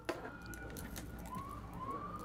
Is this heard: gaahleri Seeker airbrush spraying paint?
no